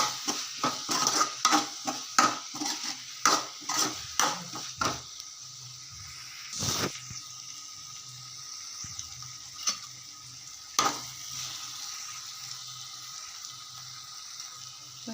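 Green chilies and turmeric are stirred in a pan with a spoon, giving a quick run of scraping metallic clinks over a faint sizzle, then slower occasional scrapes as the stirring tapers off.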